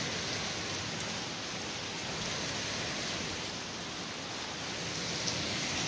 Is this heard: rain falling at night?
yes